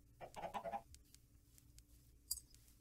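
Chickens clucking in Minecraft, a short burst of several quick clucks followed by quieter scattered sounds, faint and close with no voices.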